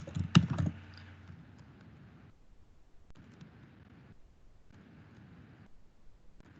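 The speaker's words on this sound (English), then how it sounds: "I'm just going to type up what the slides say" Computer keyboard keys tapped in quick bursts while Java source code is typed into a text editor, close and fairly quiet, with short pauses between runs of keystrokes and no voices.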